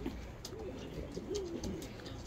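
Pigeons coo softly in a pigeon breeding loft, low rolling calls repeating under faint background rustle and a few sharp ticks.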